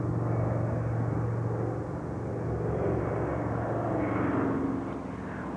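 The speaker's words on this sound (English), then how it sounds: "this is taking off again at Rhein-Main. That's one of the British aircraft." A British transport aircraft taking off at Rhein-Main air base during the Berlin Airlift sends out a loud, continuous engine roar that holds steady with slight swells throughout.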